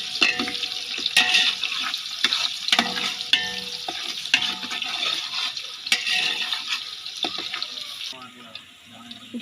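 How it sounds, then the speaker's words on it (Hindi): Onions frying in hot ghee for channa pulao, a steady broad sizzle with scattered stirring clicks and spatula scrapes, close and fairly loud throughout, with no talking. "प्याज को हमने 2 मिनट अच्छे से फ्राई करना है।"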